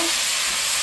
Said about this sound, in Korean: 좀 볶아줄게요.